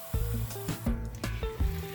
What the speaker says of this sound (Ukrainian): Дві хвилинки пройшло, рибка почала трошки смажитись.